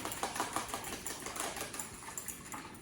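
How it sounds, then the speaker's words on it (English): Eggs for an omelet are whisked briskly in a bowl, producing a steady rapid clicking and rattling of the whisk against the sides, close and fairly soft, with no talking. "So for our omelet, we want to scramble really well. Kind of use like a whipping motion."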